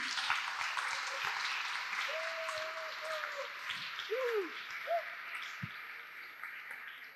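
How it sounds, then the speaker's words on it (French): A workshop group applauds together in a steady, dense wash of clapping that fades slightly toward the end, with a few faint voices calling out underneath. "on s'applaudit"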